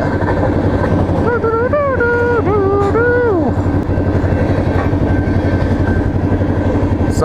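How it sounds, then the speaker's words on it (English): Loud rumbling of a train passing at night, a constant heavy roar with a rising and falling horn-like tonal sweep in the middle. "The train passed by"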